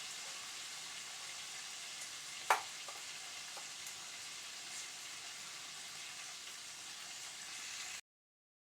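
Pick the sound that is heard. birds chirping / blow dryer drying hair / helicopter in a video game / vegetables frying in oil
vegetables frying in oil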